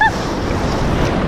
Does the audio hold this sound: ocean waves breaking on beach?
yes